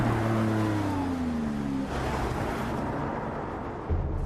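A Lamborghini Aventador engine revs loudly, its pitch sweeping down over the first two seconds before settling into a steady, rumbling drone that continues to the end.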